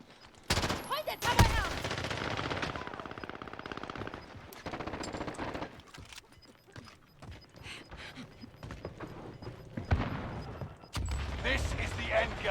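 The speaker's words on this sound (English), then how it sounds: "I'm taking fire!" Gunfire in Call of Duty: Warzone during an end-game firefight, with bursts of shots and impacts coming and going amid game noise, and a voice talking over parts of it.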